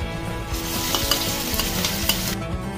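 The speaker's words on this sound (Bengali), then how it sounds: "এবার পেঁয়াজ, রসুন, আদা একসাথে পেস্ট করা এটা দিয়ে দিচ্ছি।" Onion, garlic and ginger paste fries in hot oil with cinnamon, cardamom and cloves for a mackerel fish curry, giving a steady crackling sizzle broken by scraping stir strokes, close and without speech.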